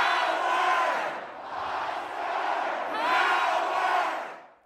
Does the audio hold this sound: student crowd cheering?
yes